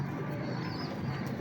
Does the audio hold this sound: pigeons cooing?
yes